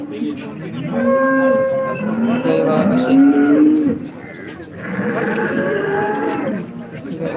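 Cows moo loudly and repeatedly nearby at a cattle market in Modnimb, in long, drawn-out calls, with a person briefly speaking during the lowing.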